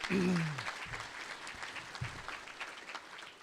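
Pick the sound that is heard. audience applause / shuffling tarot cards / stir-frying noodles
audience applause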